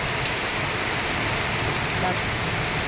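Continuous rainfall, a dense even hiss of drops pattering close by with no pauses.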